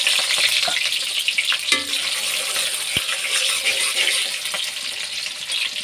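Onion and dried chillies fry in oil in a pan, a loud, steady crackling sizzle with a brief metallic scrape of stirring partway through, no speech over it.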